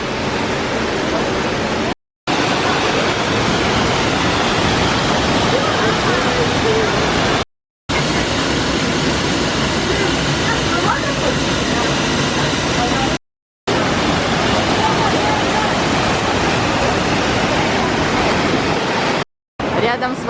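Waterfall beside bat-inhabited caves in Turkey, a dense steady roar of rushing water filling the whole scene, loud and continuous with a few brief cuts to silence.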